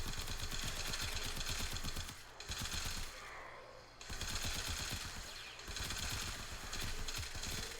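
Rapid automatic gunfire from the Prisma Twin Gremlins pistols in Warframe, a dense, sustained stream of shots in bursts, broken by two short pauses, loud and close with no talking.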